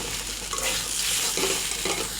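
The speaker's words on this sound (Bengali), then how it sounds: "আলুটাকে মশলার সঙ্গে কষিয়ে নেব" Potatoes are stir-fried with spices in a pan for a Bengali kachki fish curry, giving a continuous close sizzle with scraping stirring sounds and no talk.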